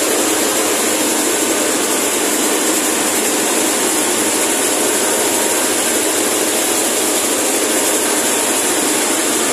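A loud, steady mechanical roar of a large rice milling machine running continuously, dense and unbroken with a high whine on top.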